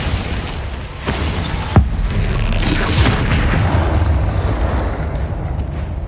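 Spell blasts in the video game Hogwarts Legacy, a loud booming burst followed by sustained rumbling and crackling magical effects, close and dense, with no voices.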